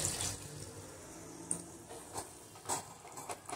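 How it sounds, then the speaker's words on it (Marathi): Sour buttermilk is poured into a pot of traditional potato curry, making a soft, continuous liquid splash at low volume, with no talking. "आता आपण याच्यामध्ये ताक घालूया."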